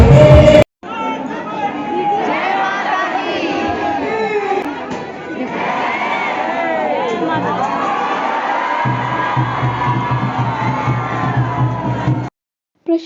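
A dense, loud crowd packs a Durga Puja pandal during Navratri in Begusarai, Bihar, with constant overlapping chatter, shouts and cheers that fill the whole stretch, and a brief cut near the start and end.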